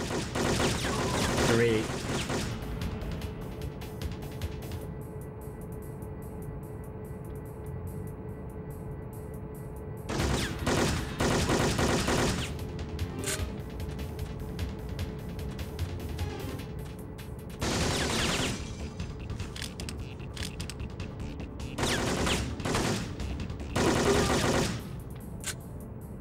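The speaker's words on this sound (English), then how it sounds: "I don't know why these guys are shooting at me." Gunfire from enemy soldiers in the Syphon Filter video game, heard as bursts of rapid shots in several loud clusters, with a steady hum behind and someone talking briefly.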